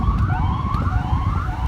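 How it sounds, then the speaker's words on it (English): An ambulance siren wails in repeated rising and falling sweeps, fairly loud and close, over a steady background rumble as it passes. "there's an ambulance"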